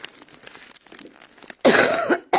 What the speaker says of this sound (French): Ouais, comment je tousse, non?